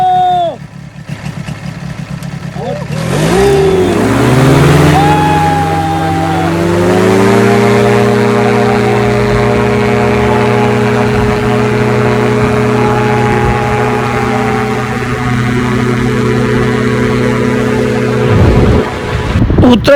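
An airplane engine drones inside the cabin during a flight to Bangkok, a loud steady low hum with rising tonal whine as power builds, holding constant with no talk.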